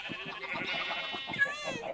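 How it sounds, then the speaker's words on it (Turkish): Sheep, including a pink one, bleating repeatedly in Minecraft, with overlapping wavering calls and soft thuds of movement underneath, at moderate volume. "Bu arada pembe koyunu var adamın"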